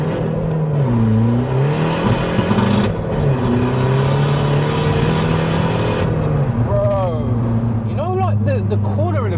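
A tuned Skoda Fabia vRS turbo engine of about 353 bhp revs loudly and close up, its pitch rising and falling in sweeps under someone talking, with quicker rising revs near the end.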